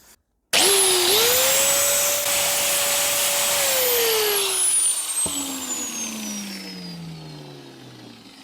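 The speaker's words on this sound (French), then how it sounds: "Un coup de meuleuse pour lui faire le plat." An angle grinder spins up and grinds down a Derbi Euro 3 moving-part engine component to flatten it, a loud steady whine that holds for several seconds, then slowly winds down with a falling pitch, no talk.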